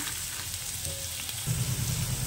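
Potatoes dropped into hot oil with dried red chilli, panch phoron five-spice and green chilli for a light raw-mango curry with small fish, giving a steady close sizzle that grows louder and denser partway through.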